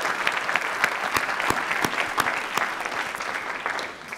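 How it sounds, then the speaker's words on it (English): Applause for award winners at a 2018 graduation ceremony: a crowd clapping steadily with sharp individual claps standing out, moderately loud, fading slightly at the end. "Let's give them another round of applause."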